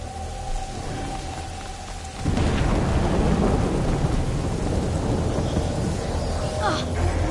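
Thunder cracks and then rolls on in the video game A Plague Tale: Innocence, a sudden loud boom about two seconds in giving way to a steady rumble with heavy rain and wind, with no voices.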